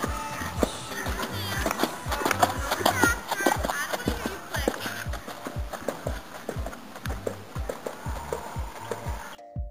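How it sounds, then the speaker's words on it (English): A horse being ridden clip-clops along with steady, rhythmic hoof beats, close and clear, striking in a regular trotting pattern for nearly ten seconds before cutting off. "this is obviously going to be a video of me horseback riding."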